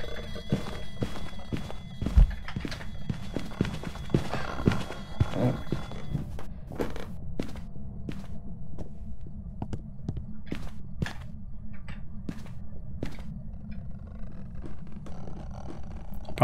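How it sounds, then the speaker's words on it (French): Ghostly footsteps in the horror game Phasmophobia, a steady run of sharp, evenly spaced thuds that are clear and fairly close, with no talking over them. "On peut entendre facilement ces bruits de pas."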